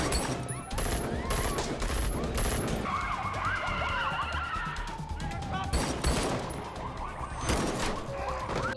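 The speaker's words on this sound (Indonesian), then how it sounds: "Di sini sempat terjadi adu tembak antara Chloe dengan anak buah Julian." A TV crime-drama shootout in an action scene, with bursts of gunfire and fusillade-like cracks mixed with siren wails and dramatic score, loud and busy throughout.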